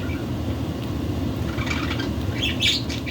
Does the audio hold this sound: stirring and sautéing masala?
no